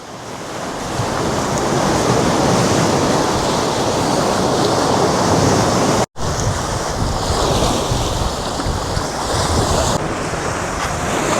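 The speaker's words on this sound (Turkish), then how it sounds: "beyaz kumlar, turkuaz sular, o hayallerimizdeki plaja geldik yani resmen" Ocean waves at a white-sand, turquoise-water tropical island beach: continuous loud surf roar with heavy wind buffeting the microphone, steady throughout with a brief dropout partway, no talk.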